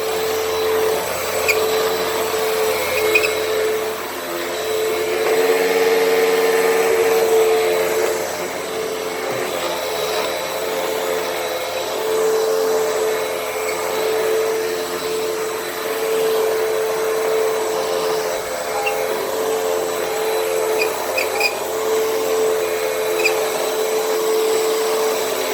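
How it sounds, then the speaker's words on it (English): A Hoover WindTunnel upright vacuum cleaner running over carpet, a loud, constant motor drone with a steady whine that shifts slightly in pitch as it moves, with no one speaking. "Loosened it with my foot and vacuumed it up."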